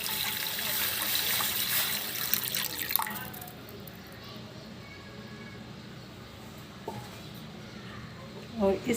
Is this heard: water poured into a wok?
yes